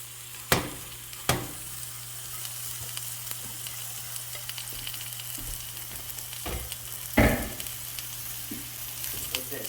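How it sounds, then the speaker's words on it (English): Seasoned meat searing in heated olive oil in a pan, a steady close sizzle punctuated by a few sharp knocks and scrapes as the pieces are moved. "Get the olive oil heated up in the pan. We're just gonna sear it."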